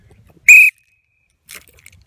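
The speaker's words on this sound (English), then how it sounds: "it could definitely hear the whistle" A dog training whistle gives one short, sharp, piercing blast at close range, followed by quiet rustling.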